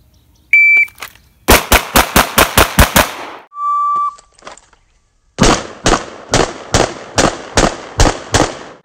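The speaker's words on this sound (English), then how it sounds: "I'm gonna run across these targets as fast as I can shoot A's on these" Rapid pistol gunshots fired across a row of shooting targets in practical shooting drills, two close, loud bursts of about seven and eight sharp cracks each, separated by brief electronic beeps from a shot timer.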